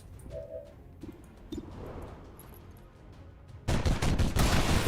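Gunfire aimed at a turret in the video game XCOM 2, a sudden loud burst of rapid shots near the end after quieter game ambience.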